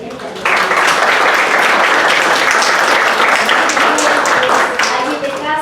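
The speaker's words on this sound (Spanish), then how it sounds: "le damos un aplauso también" A conference audience applauds at a university panel on education reform, the clapping starting abruptly and holding as a dense, steady wash of many hands for several seconds.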